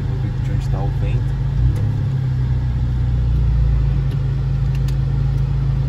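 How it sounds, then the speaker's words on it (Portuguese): Car engine idling steadily as the car comes to a stop, a constant low rumble with a droning hum beneath someone talking close to the microphone. "Vou parar o carro aqui, rapaziada."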